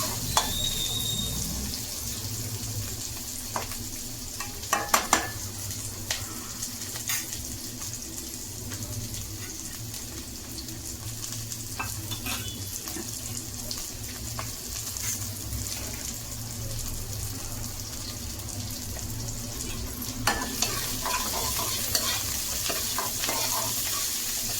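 Onions sizzle steadily on medium heat for a brinjal gravy, with a constant frying hiss and occasional scraping clicks from stirring, close by and alone without talk.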